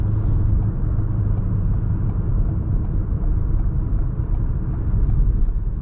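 Steady low engine rumble from a Ford car moving along a back street, a continuous near drone that swells slightly as it gives a little gas, no talk.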